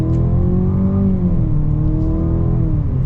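A 2023 Range Rover Velar R-Dynamic S accelerates hard, its engine droning loud and close with a steady, slowly shifting tone and no gaps, and no voices over it.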